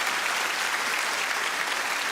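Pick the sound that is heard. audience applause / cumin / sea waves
audience applause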